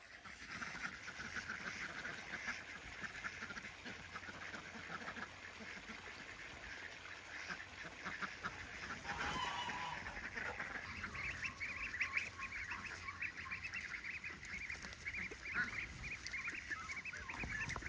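Ducks quack and honk continuously outdoors in the morning. The calls are moderately faint and layered in a busy chorus, with no voices over them.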